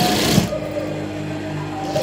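A sewing machine stitching along the edge of net fabric, a short close burst of rapid mechanical whirring and needle clatter that settles into a steadier hum.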